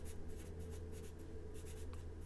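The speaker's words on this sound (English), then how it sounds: "I'm writing that down so I remember that." Pen or pencil scratching notes onto paper at a tabletop roleplaying session, a steady series of short scribbling strokes close by over a low background hum, with no talk.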